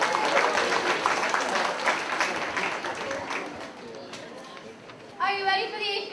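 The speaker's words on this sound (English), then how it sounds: "Let's give them a round of applause" Audience applause at an 8th grade science assembly in a school, loud at first and fading over several seconds, with chatter and voices mixed in and a voice rising near the end.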